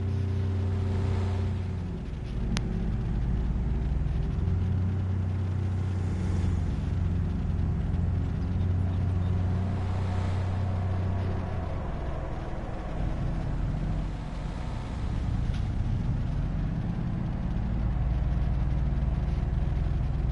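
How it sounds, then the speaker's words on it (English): UTV engine droning steadily while driving in Farming Simulator 22 on the Buck's County map, a loud, close, continuous low rumble with slight shifts in pitch as speed changes. "I think one of my tractors is faster than this"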